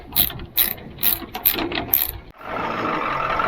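A ratchet wrench clicks in five or six quick, close bursts while working on a broken-down ramp truck, then stops. A steady broadband rush from a hose or engine takes over.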